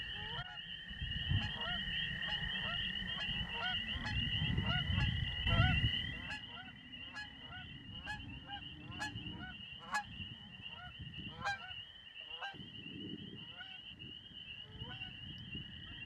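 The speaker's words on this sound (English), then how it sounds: "You can hear some geese in the background here." Geese honk repeatedly from a distance, a steady scatter of calls over a low outdoor rumble, with faint talk and noise at times.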